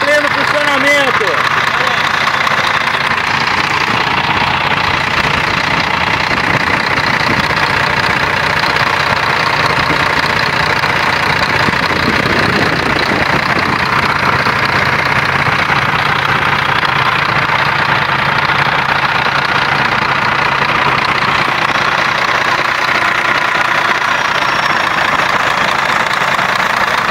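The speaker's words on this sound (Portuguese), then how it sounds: "a gente não podia mostrar um CMA sem mostrar o motor em pleno funcionamento." Scania K124 CMA bus engine idling, a steady low rumble that stays constant and close, with people talking over it.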